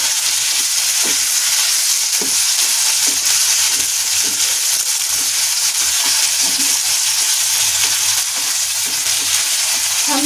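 Onions frying in a pan for malai kofta gravy give a loud, dense, continuous sizzle close up, with occasional stirring clicks as tomatoes go in; no talking.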